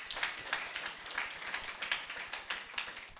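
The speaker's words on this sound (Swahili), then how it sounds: "Tumpigie mtume wetu makofi." A church congregation at a celebration service claps for the apostle in steady rhythmic applause, sharp hand claps repeating at a brisk even pace, moderately close and without talk.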